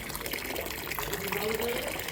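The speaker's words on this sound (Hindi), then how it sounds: "तो दोस्तों फूलों में पानी मैं डालने लग गई हूँ।" Water pours into flower pots, a steady gushing fill running close and fairly loud through the whole stretch, with a faint background voice now and then.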